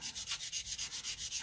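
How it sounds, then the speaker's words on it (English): Steady back-and-forth rasp of a coarse/fine sanding block rubbed over a workpiece during aircraft empennage construction, about a dozen even, rhythmic strokes, close and alone with no voices. "This sanding block has a coarse side and a fine side."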